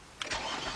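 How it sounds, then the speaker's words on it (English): A 2007 Nissan Murano with a 3.5 engine cranks briefly and catches, a quick faint start heard close by. "Let's start it up."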